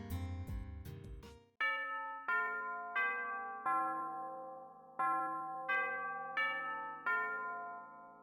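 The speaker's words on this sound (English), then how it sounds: "Before long, the final bell rings." A school's final bell from the visual novel Katawa Shoujo sounds in a game soundtrack: a short jumble of low tones, then a slow run of clear, resonant chime strikes, each ringing out and decaying before the next, with no voices.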